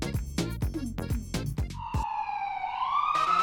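A cartoon ambulance siren: a loud, close electronic wail that sweeps in pitch and stands alone after a series of bouncy tones, steady and sustained to the end.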